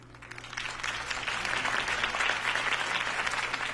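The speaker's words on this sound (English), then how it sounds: "If only Mr. Wayne, my campaign's largest backer, could have heard that applause" A crowd applauds steadily, a dense wash of clapping that swells slightly and holds, with a low hum underneath.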